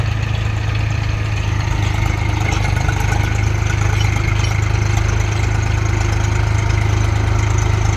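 A motorbike engine runs steadily while the bike is stuck in mud, a loud, close, even rumble that holds without pause for the whole stretch.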